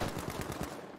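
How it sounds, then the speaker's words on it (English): Automatic gunfire in the Battlefield V video game, a rapid rattle of close, loud shots in quick repeated bursts that fill the whole moment. "Why are you shooting at me?"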